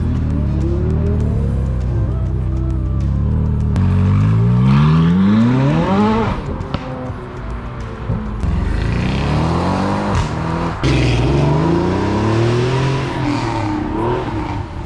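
Loud car engines rev hard and sweep past, their pitch climbing and falling as several vehicles accelerate by in quick succession.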